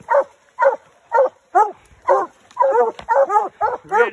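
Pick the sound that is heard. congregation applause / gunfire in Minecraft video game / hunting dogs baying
hunting dogs baying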